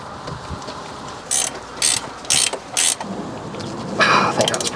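A ratchet wrench tightening bolts on a neglected 1980s-era Corvette C4 barn find, heard as four short bursts of rapid clicking followed by a longer burst, close and fairly loud over quiet background.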